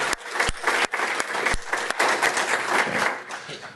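A conference audience gives a warm round of applause for two vendors on stage, steady clapping from many hands with a few sharper claps standing out and a faint voice underneath.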